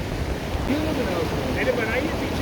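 Fast-flowing stream water rushes through a knee-deep mountain crossing with a steady low roar, while a voice talks over the torrent.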